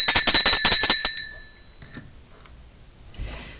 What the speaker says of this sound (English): the low bell.